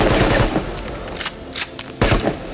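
A gun fires in the VR shooter Into the Radius, then jams and is racked, giving a few loud close shots and bursts separated by brief mechanical clacks.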